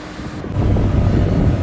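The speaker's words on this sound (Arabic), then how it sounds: "وكاين هنا واحد الموجات" From a small fishing boat on the sea at Oualidia, Morocco, wind buffets the microphone and waves wash with a loud, continuous, low rumbling roar that swells slightly. No one speaks.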